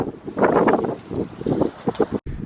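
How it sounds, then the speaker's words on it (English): Gusty wind buffets the microphone in a backyard orchard of high-density fruit trees, coming in rough bursts and lulls with a brief dropout. "Sorry, it's pretty windy."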